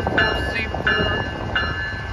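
A Montana Rail Link freight train led by an ET44C4 locomotive rolls past nearby, a low rumble under bright ringing squeals that recur about every two-thirds of a second.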